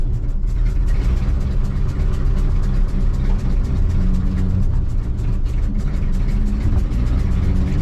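A vehicle engine pulls away in first gear with a loud, steady low rumble that holds close and constant throughout, with no speech.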